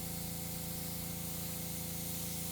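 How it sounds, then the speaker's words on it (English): Airbrush spraying food coloring onto royal icing cookies from a short distance, a steady, continuous hiss with a constant motor hum beneath it, close and even throughout. "Spraying at somewhat a distance here so I don't apply too much coloring all at once."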